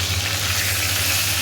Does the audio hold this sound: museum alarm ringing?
no